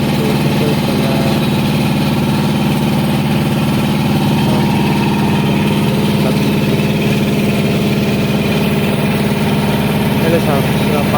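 Engine of a wooden river boat underway between Nagarbera and Barpeta, a steady loud droning hum running unbroken throughout, with talk over it.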